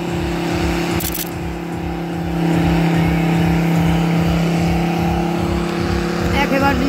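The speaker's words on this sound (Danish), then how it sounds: "lastbiler, det kan altså også lave brænder" A pickup-style truck with its exhaust mounted in the middle of the bed revs hard through a burnout, a steady loud engine drone with pulsing rhythm and a rise partway through, alone without talk.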